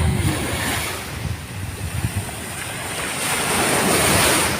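Sea waves roll onto a long beach in Italy, a broad, continuous rush of surf that swells and ebbs, mixed with gusty wind buffeting the microphone and no voices.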